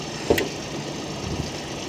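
A Kia Seltos CRDI diesel engine with 150,000 km idles with a low, steady rumble, a brief clack near the start, then an even drone continuing.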